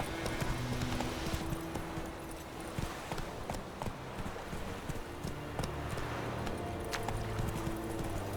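Roach the horse gallops in The Witcher 3: Wild Hunt at White Orchard, with a steady, rapid clip-clop of hooves running throughout at moderate volume.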